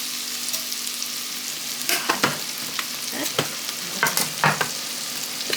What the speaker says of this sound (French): je fais revenir mon oignon frais dans du Net Envy.